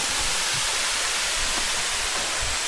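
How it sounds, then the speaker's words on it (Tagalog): Kawasan Falls in Balilihan, Bohol pours in a loud, steady roar of rushing water, a broad continuous wash close by with no talking over it. "Nataas siya ng konti yung waterfalls na ito guys."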